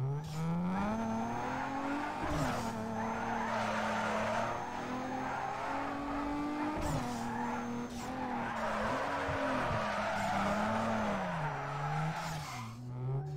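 A car drifts in the street-racing game Need for Speed Underground 2, its tires skidding and squealing steadily while the engine drones underneath, with pitch sweeps as the car snaps around through the turns.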